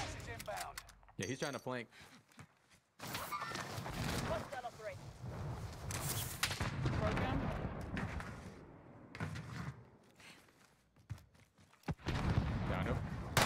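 A DP-27 machine gun fires in the video game Warzone in short, sharp bursts, scattered among steady, excited talk from a player over busy game noise.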